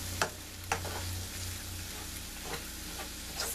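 Vegetables coated in oil sizzle steadily in a pan as they caramelize, a soft continuous crackle broken by a few faint clicks of stirring, alone and fairly quiet.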